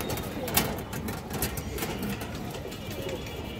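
A male pigeon coos softly in low repeated pulses close by, mixed with light rustling and background noise.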